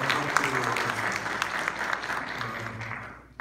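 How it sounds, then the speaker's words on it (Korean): Conference audience at an engineering society session on building structural codes breaks into applause, a full, continuous clapping that holds steady, with faint murmuring beneath, then tapers and drops off near the end. "큰 박수"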